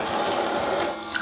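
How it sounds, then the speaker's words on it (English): Water runs steadily from a kitchen tap into a sink, a close, continuous splashing rush of moderate loudness with no talking over it. "Oh, water is coming, Chia."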